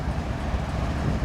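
Brief rumbling roar of an incoming train passing nearby, a dense low-pitched rolling noise that stays steady and loud for the whole moment.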